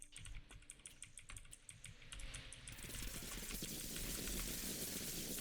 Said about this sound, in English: I did not realize you were typing.